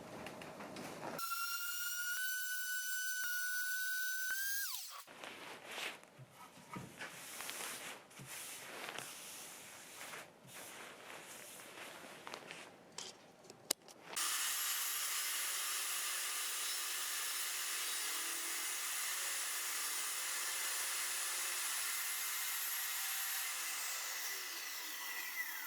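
A power saw cuts a wooden board to length for a cutting board, a loud whining tone biting in and out, then rough chattering cutting, then a sustained bright high whine, all close and without talk.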